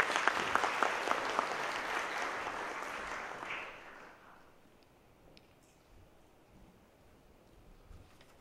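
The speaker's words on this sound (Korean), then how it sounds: "네, 박수로 맞아주십시오." Audience applause welcoming a speaker at a pharmaceutical industry conference, dense clapping that starts strong, thins out after about four seconds and fades to a quiet room with a few scattered claps.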